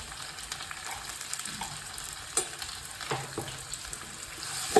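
Green chillies, asafoetida and salt frying in hot oil for tomato pappu give a soft, continuous sizzle with a few light stirring clinks and scrapes, fairly quiet and close, with no talking.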